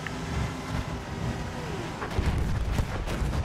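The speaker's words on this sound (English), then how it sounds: "I'm gonna fire two torpedoes at him right now" Torpedo launches in Battlefield 1 naval combat with a dreadnought nearby, heavy booming thumps and rumbling water-vehicle noise building in the second half over continuous battle din.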